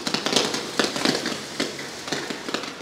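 Category 1 consumer fireworks go off in a rapid series of sharp bangs and crackles, fairly close and loud, with no voices over them.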